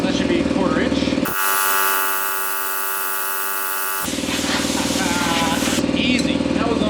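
A JEGS Cut 60 plasma cutter slices through 1/4 inch steel at close range, a steady loud hiss and buzz holding for a few seconds between the louder start and stop of the arc.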